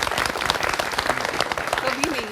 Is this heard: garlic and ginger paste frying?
no